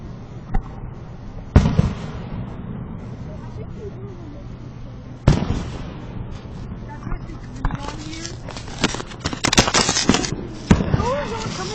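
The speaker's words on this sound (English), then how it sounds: "Fireworks are cool." Fireworks burst in sharp, loud bangs separated by a few seconds, then crackle and pop in a denser cluster, with people talking throughout.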